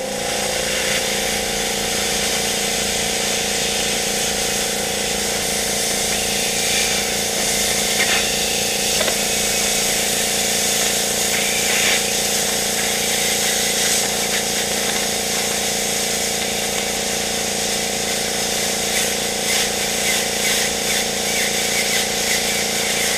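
Thermal Dynamics AirCut 15C plasma cutter cutting stainless steel, a continuous loud hissing, buzzing drone with steady machinery hum underneath, unbroken for over twenty seconds with no talk.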